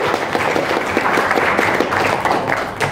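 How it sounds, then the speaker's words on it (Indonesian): An audience claps at a Banten regional tourism promotion event about Golf Day, producing a continuous, fairly loud burst of many hands clapping together with no talk over it. "Tepuk tangan dulu untuk Cilegon lagi."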